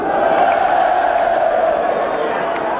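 Football crowd at a local derby cup tie, a broad continuous roar of many voices heard from a distance, steady and loud throughout, no single voice standing out.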